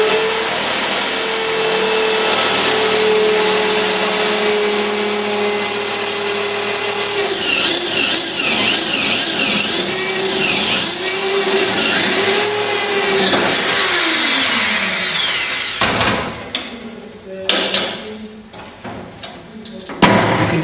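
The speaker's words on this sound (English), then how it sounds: "Then you can drill a hole." A power drill bores a hole through metal vehicle body panels during rivet work, giving a sustained high whine that shifts in pitch for about fifteen seconds. Clatter and handling noises follow.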